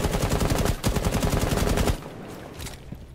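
Rapid automatic gunfire in Rainbow Six Siege, shots fired through a wall, loud and continuous for about two seconds, then cutting off to quieter room sound with a few faint distant pops.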